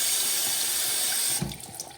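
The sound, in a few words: water draining out of Ducky Splash toy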